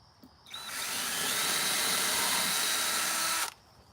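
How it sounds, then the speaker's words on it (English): A power drill whirs steadily for about three seconds, starting abruptly and cutting off cleanly, loud and close with no talking. "Pre-drilling."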